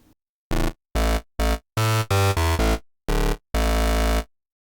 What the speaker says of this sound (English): So today we're going to take a look at creating an FM bass sound in the Vital synth.